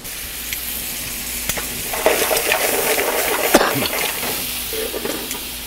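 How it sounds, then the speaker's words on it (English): Scallops sautéing lightly in a pan for bouillabaisse, a close sizzle that swells midway, with a few sharp clinks of utensils against the pan. "my scallops. And I'm going to saute them lightly"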